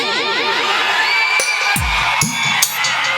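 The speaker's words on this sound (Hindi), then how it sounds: "हल्ला कीजिए, अरे जोर से हल्ला करो" A crowd at a Saraswati Puja devotional song performance shouts and cheers loudly, with rising and falling whoops and sharp yells overlapping in a brief, energetic burst close by.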